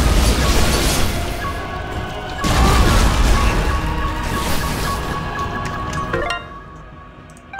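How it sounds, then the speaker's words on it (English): Continuous loud rumbling explosions in the game Dust: An Elysian Tail, one heavy blast after another with crashing debris and tonal hums, easing off near the end. "Explosion after explosion"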